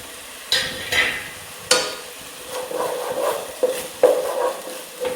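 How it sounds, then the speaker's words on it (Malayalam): Onions and chopped green chillies sautéing in a pan, with intermittent scraping stirs and soft sizzling, several distinct spatula strokes standing out close up. "അപ്പോൾ ഉള്ളി നന്നായിട്ടൊന്ന് വഴറ്റി കൊടുക്കാം. പച്ചമുളക് അരിഞ്ഞത് അതും കൂടി ചേർത്ത് കൊടുക്കേ."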